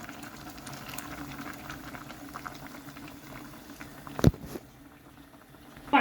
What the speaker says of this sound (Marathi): उकळत आहे हे भाजी